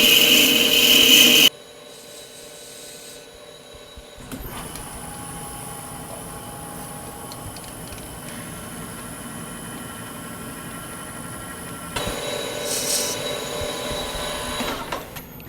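A lathe with a boring bar cuts a bore out to 13.8 mm, giving a steady mechanical whir and cutting hum that runs on evenly after a short loud burst at the start, with no talk.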